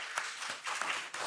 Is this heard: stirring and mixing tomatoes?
no